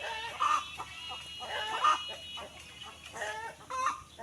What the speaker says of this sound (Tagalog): Dahil manok galakaw-lakaw guys oh.